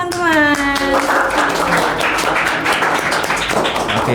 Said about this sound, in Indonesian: boleh beri tepuk tangannya dulu teman-teman